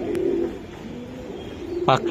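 Racing pigeons in a club loft give low, soft coos close by, and a brief burst of voice cuts in near the end.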